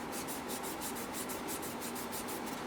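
A fingertip rubs over the matte plastic shell of a Nintendo Switch Lite, a soft, close, even scratching hiss in quick repeated strokes, faint and alone.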